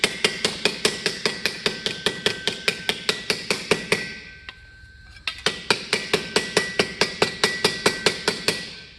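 A hammer strikes an aluminum armor plate to flatten it, landing loud, ringing metallic blows in a fast, steady rhythm. The blows pause for about a second midway, then resume.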